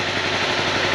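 The engine of a 2011 Honda CBR250R motorcycle runs with a loud, even, pulsing drone for a brief moment, heard close and alone.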